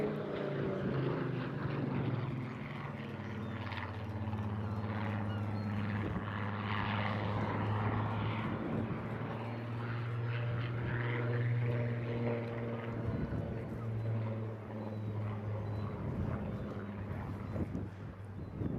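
A Rolls-Royce Spitfire propeller aircraft flies at the Eastbourne International Airshow, its steady droning engine growl holding loud and continuous throughout with a deep rumbling tone.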